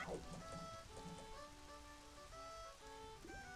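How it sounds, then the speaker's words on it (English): Steady rain in the N64 game The Legend of Zelda: Majora's Mask, in Clock Town, patters softly throughout, with faint musical tones drifting over it; quiet and continuous, with no one speaking. "on the second day it's always raining here in Clocktown"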